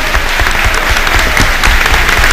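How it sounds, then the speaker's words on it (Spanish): A crowd applauding loudly and steadily, dense clapping close by without pause, a community applauding a general after a rescue of kidnapped police officers in Colombia. "aquí lo está aplaudiendo la comunidad"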